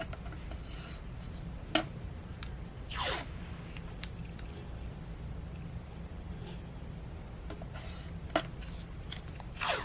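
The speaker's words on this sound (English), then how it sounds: "I'm going to take some washi tape and I'm just going to tape off a little bit on each side." Washi tape being pulled and pressed along the edges of a card, heard as several quick rasping tears with soft rubbing and handling noises between them, close and fairly quiet, without talk.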